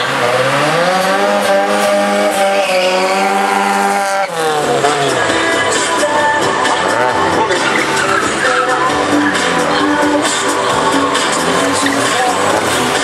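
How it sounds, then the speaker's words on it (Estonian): Car doing a burnout at a slalom burnout competition in Haapsalu, 2010: a loud, continuous engine roar with sustained squealing tires, close up and filling the whole stretch, the engine pitch dropping partway through. "Sa pead suitsetama rehvi, sa ei sõida 8. See on burnout'i võistlus."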